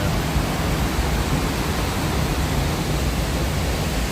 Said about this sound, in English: Can hear the rushing water.